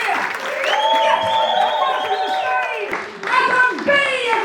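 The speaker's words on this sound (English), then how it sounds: "start the applause small. Raise it, raise it, raise it. Come on, cheer!" A live comedy audience claps and cheers as a show opens, sustained applause and whoops under a host's voice calling out, building loud with brief dips.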